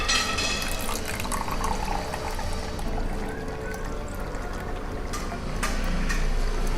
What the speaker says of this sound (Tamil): இப்போ நம்ம இந்த தண்ணியை வந்துட்டு பொறுமையாக வடித்து எடுத்துக்கலாம்